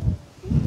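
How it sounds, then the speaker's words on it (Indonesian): Strong wind blows on the Puncak Sikadunduang mountain peak in Tanah Datar, West Sumatra, heard as a loud low buffeting rumble against the microphone that swells, dips briefly and then returns. "Di sini kondisinya angin sangat kencang ya."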